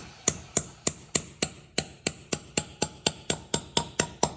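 A wooden dowel rod being hammered into a concrete floor while fitting a door threshold, heard as about fifteen sharp, evenly spaced close hammer strikes in a steady rhythm.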